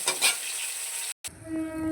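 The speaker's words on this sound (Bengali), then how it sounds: "ভালো করে সুন্দর করে একটু কড়া করে মাছটাকে ভেজে নিয়েছি" Katla fish fries in hot oil, a steady sizzle with a couple of stirring scrapes near the start, then a brief cut before the frying continues with a faint hum.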